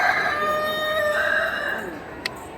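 A rooster at Vadapalani Murugan temple in Chennai crows once in a long, drawn-out call that fades at the end, followed by a faint click.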